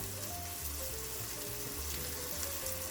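Rice toasting in butter in a pan for a plain risotto makes a soft, continuous sizzle with faint crackles and occasional tonal squeaks, fairly quiet and steady throughout.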